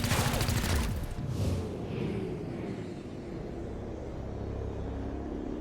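Gunfire in the turn-based game XCOM: Chimera Squad: a loud burst of rapid shots opens, then drops into a booming rumble that fades into a low, sustained ambient drone.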